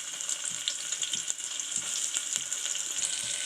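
Thinly sliced onion sizzles steadily in hot oil in a pan, a close, continuous fry with occasional stirring scrapes and no talking.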